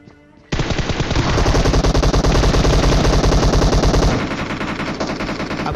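Automatic gunfire in the PUBG Mobile video game, a loud, rapid, sustained burst of shots beginning abruptly after a quiet moment, then continuing at lower intensity toward the end.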